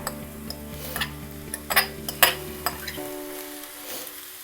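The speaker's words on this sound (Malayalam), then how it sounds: "അപ്പോൾ ഇതിലേക്ക് ഞങ്ങൾ ചോറ് തട്ടിയിടാം." Boiled rice is tipped into a frying egg masala in a pan, with scattered scrapes and taps of a spoon against the pan over a soft sizzle and a low steady hum, close by and without speech.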